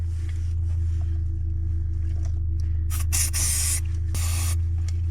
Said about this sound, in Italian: buttiamo un po' di spray per i contatti.